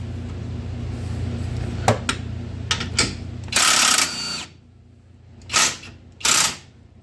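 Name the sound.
taking a nut off a side-by-side suspension bolt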